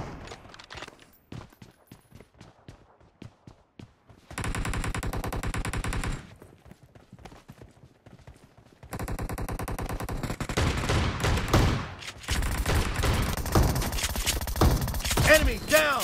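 Bursts of automatic gunfire in a team shooter video game, long sustained rattling volleys broken by short pauses, loud and close, with scattered single shots between the bursts.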